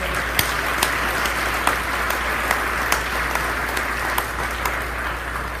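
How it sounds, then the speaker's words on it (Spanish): Sustained congregation applause fills a church service, dense and steady with a few sharper individual claps standing out, no voices on top. "den un fuerte aplauso al Señor"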